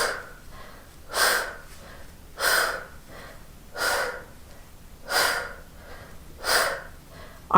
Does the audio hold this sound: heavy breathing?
yes